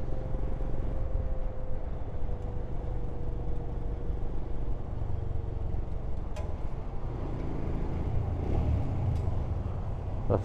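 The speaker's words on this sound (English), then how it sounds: "Had to drop a little rev bomb going through there." A Royal Enfield Scram motorcycle rides through a tunnel on a Highlands tour, its engine a steady, loud, close rumble with a faint whining tone that persists throughout.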